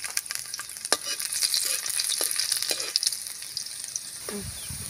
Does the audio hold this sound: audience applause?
no